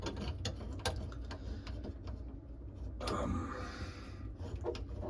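Screws being tightened on the mounting of a Kohler sink, a close ratcheting mechanical clicking in an uneven rhythm over a low steady hum, with no one talking.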